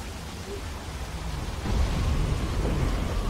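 Storm ambience in The Walking Dead video game: steady broadband rain hiss with a low rumble of thunder swelling midway and holding loud to the end, no talk.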